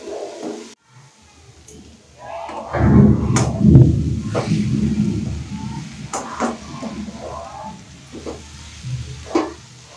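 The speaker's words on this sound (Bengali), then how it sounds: "আবার একটু আমি নেড়ে নিচ্ছি।" Cabbage frying in a pan on a low flame is stirred, bringing bursts of close scraping and sizzling that rise and fade, with scattered spatula knocks against the pan.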